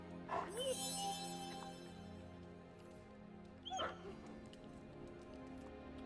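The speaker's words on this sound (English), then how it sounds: "petting the dog is a critical element" A 300-year-old dog in the video game Marvel's Midnight Suns is petted and lets out two brief whimpering yips a few seconds apart, faint over a steady low game-music hum.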